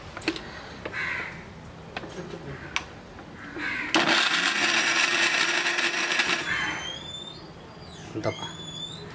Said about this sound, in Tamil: நல்லா நைஸாக அரைச்சிக்கலாம்ப்பா.